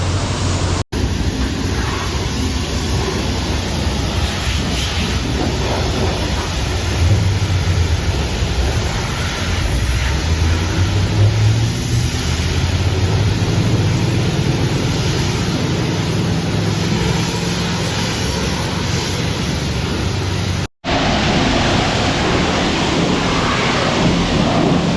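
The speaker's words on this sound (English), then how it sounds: "All right, we made it to the car wash." Water sprays under high pressure onto a 1955 Ford F1 pickup at a car wash: a loud, steady broadband hiss and rush with no talking, briefly cutting out near the start and again around twenty seconds.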